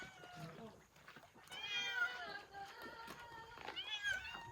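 Several cats meow repeatedly, near and fairly clear, in rising and falling cries, with children's voices and chatter in the background.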